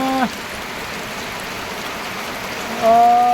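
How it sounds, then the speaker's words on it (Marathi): Steady, loud rain falls on a farm, a continuous even hiss heard alone, with brief tonal sounds at the start and end. "पाऊस खूप छान झाला मित्रांनो"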